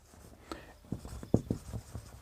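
Chalk or marker strokes on a classroom board, a quick series of short scratchy taps and scrapes at close range, fairly quiet with no talk over them.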